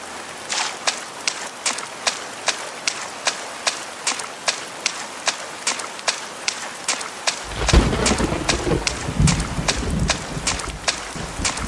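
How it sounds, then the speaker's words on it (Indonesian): A steady series of soft, evenly spaced footsteps, then heavy rain outside suddenly pours in loudly and keeps hissing to the end, in the video game A Space for the Unbound. "Dan ternyata kondisi di luar hujan cukup deras."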